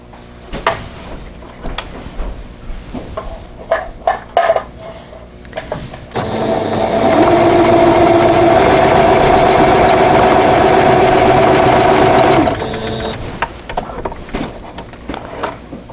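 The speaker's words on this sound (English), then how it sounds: "now I'm ready to test it and make sure everything is set right" A home sewing machine, freshly cleaned in the bobbin area, runs in a steady loud whir for about six seconds, preceded and followed by scattered clicks and handling of the machine.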